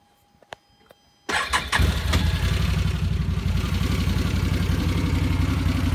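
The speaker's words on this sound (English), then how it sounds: "I'll give you a start up." After a few quiet clicks, a Land Rover Defender engine cranks and catches abruptly, then settles into a loud, steady idle.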